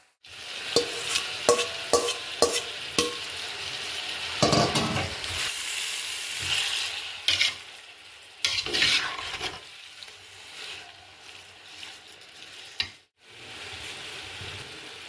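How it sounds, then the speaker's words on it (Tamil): Three-quarters of a kilo of onions sauté in a pan for chicken biryani, with a steady sizzle broken by repeated scraping and stirring strokes of a spoon. "3/4 கிலோ வெங்காயம் போட்டு நான் போடுறேன். நேரமாக இதை வதக்கிக்கணும்."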